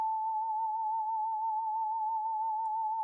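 A straight, sustained flute line opening a beat's intro, holding one steady pitch with slight vibrato, loud and unaccompanied for about three seconds.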